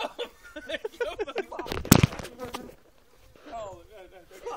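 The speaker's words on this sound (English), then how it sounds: "The bees are calm, mate." Disturbed bees buzz around a beehive in a steady, close drone broken by a sharp loud thump, while people talk and shout excitedly over the swarm.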